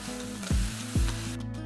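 Tomatoes with chili flakes and salt sizzle steadily in a pan for a Kerala-style egg curry, with two sharp scraping strokes of a spoon stirring them close by.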